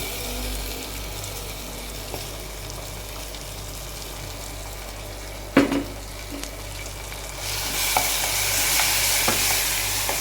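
A ground paste fries in a pan with a continuous sizzle, a sharp clatter of stirring midway, and the frying hiss growing brighter and louder toward the end.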